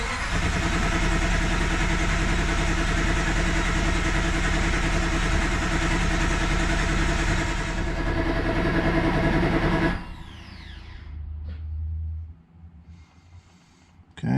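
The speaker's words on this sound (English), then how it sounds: "this is just going to be to turn the engine over and see if we can build some oil pressure" A 2012 Hemi 1500 engine is cranked over on its starter, a loud, steady churning drone that runs for about ten seconds before cutting out, followed by quieter scattered noises.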